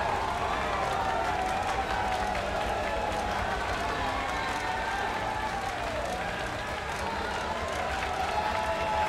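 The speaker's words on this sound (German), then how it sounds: "Ja, da jubeln sie." Virtual crowd cheering and applauding in the F1 2019 racing game after a Formula 2 championship win, a steady dense roar that holds at the same level throughout, with a voice talking over it.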